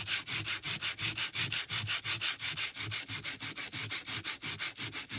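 Junk mail is sanded by hand with sandpaper in quick, steady back-and-forth strokes, a dry rhythmic rasping that repeats about six times a second, close and even, with no voices.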